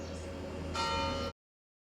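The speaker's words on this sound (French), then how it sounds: "La cloche arrête de sonner" A church bell rings in a sustained, ringing tone for just over a second before stopping abruptly into silence, heard at moderate distance.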